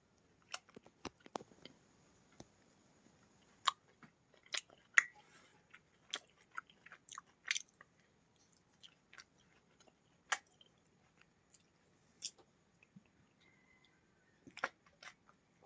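Someone chews dates at iftar. Soft, faint, close crunches and squishes come in irregular bursts over a near-silent background.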